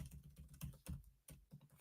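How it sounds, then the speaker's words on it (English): Quiet typing on a computer keyboard during a sports-betting livestream: a quick, uneven run of soft key clicks and taps, fairly faint, with small pauses between bursts. "Fat fingers on this keyboard."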